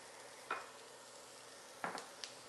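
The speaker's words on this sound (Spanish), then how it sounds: "Ya el aceite está caliente, vamos a agregar el primer ingrediente del sofrito, que es la cebolla" Finely chopped onion goes into hot oil for a sofrito, giving a faint, steady sizzle with a couple of brief stirring scrapes, quiet and close with no talking.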